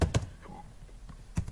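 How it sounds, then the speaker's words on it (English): A few scattered keystrokes on a computer keyboard, heard as isolated soft taps and thumps with quiet gaps between them. "Now just type it the way I am typing it."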